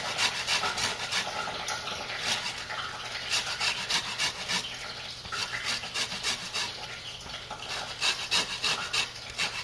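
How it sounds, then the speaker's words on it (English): Lime peel scraped across a kitchen grater for zest, giving a steady run of quick rasping strokes, close and fairly loud, over faint background noise. "Okay, so some lime zest. Let's scrape into there."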